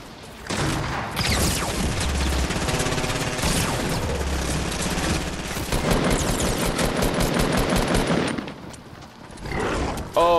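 Video game gunfire, heard as dense bursts of automatic shots and heavy booms that fill most of the stretch, loud and continuous, with a short voice near the end.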